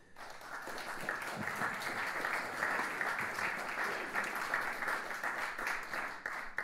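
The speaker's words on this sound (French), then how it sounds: "Vous pouvez les applaudir." An audience at a public talk applauds in a sustained round of clapping that swells after a quiet start and stays fairly soft and even, heard at a distance with no talk over it.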